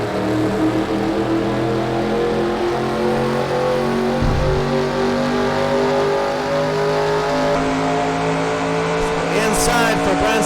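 Race cars circle a track together, engines droning loud and steady for the whole stretch with layered overlapping tones, one car passing closer toward the end.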